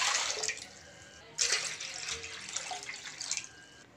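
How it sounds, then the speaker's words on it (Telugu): Water is poured into a cooking pot in a kitchen while biryani is being made, giving a soft splashing gush with short pauses and a few uneven bursts. "ఇప్పుడు ఒక గిన్నె తీసుకొని అందులో 2 లీటర్ల వాటర్ వేసుకోవాలి."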